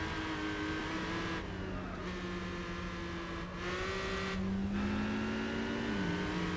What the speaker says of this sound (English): Oh, listen to its turbo. Ah, spooling up.